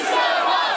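A large protest crowd shouts and roars together in the streets, a dense, loud wall of voices sustained without a break.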